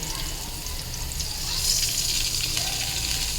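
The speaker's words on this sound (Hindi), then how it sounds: "अब थोड़ा सा मैं पानी डालूंगी, चूल्हा बिल्कुल हल्का इसका," Water poured into a pan of frying ginger-garlic masala for aloo matar kachori, a steady hissing sizzle that swells louder midway and continues over a low stove hum.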